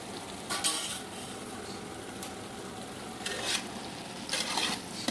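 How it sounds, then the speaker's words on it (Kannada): Spice powders, turmeric among them, being stirred into a frying mix in a large pot for a big batch of vegetable pulao, with soft sizzling under a few scraping bursts of the spoon, close and moderately quiet. "ಹಾಕಿ ಮಿಕ್ಸ್ ಮಾಡಿ."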